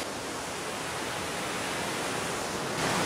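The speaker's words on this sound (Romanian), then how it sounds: "E zgomot foarte puternic datorită cascadei." A loud, steady roar of a waterfall at the Loutra Pozar hot springs in Greece, a broad, continuous rushing wash of falling water close by with no pauses.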